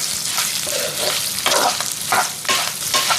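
Green chillies frying in a pan for a coconut chutney made with toor dal and urad dal: a loud, steady, close sizzle and crackle with scraping stirs throughout.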